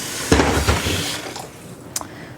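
Water splashes and trickles as it is poured onto a houseplant, a brief gush followed by softer dribbling and a small clink near the end.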